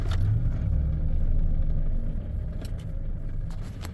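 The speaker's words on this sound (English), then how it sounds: "Let's start it up." A truck engine starting up and settling into a low rumbling run close by, with a few faint clicks.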